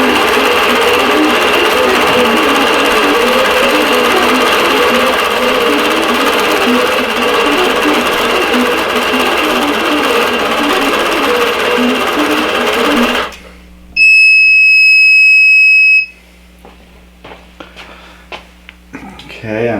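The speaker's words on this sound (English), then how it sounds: "it's going to go ahead and sew this block out" An embroidery sewing machine stitches out a quilt block with a steady, loud, dense mechanical whir. The run halts abruptly, then a few sharp electronic beeps sound, followed by quiet.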